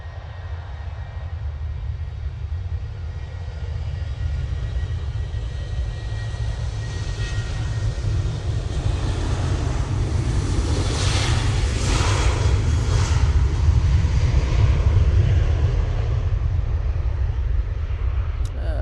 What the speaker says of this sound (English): Is the Etihad 787-9 Dreamliner coming in from Abu Dhabi.